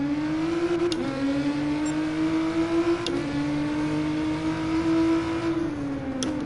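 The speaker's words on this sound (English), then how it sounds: "you can really hear the defining sound of a GTR" A Nissan GT-R engine in the video game Gran Turismo Sport holds a steady, whining drone with slight pitch shifts as it shifts and revs, continuous and fairly loud, no talking.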